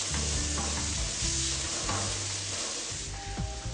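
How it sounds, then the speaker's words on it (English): Seeds or nuts sauteing in a hot pan for a Moroccan bean dish, a close continuous sizzle with soft stirring scrapes running through the whole stretch, no talking. "It's always a good idea when you're using seeds or nuts in recipes to saute them first"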